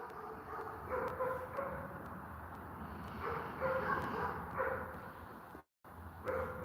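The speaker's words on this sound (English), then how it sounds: "Well, I wish the dogs would be quiet. Really, I could do without the yapping." Small dogs bark and yap repeatedly at a moderate distance, overlapping in irregular bursts over a steady background hum.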